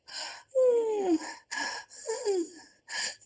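A voice imitates the wheezing breath of a respiratory patient, with strained, whistling inhales and gasps repeated several times in quick succession.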